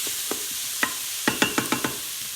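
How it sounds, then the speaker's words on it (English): Onions and garlic sauteing in oil, a soft steady sizzle under a handful of sharp utensil scrapes and taps against the pan, close and moderately loud, with no talking. "So I'm just gonna saute the onions and the garlic."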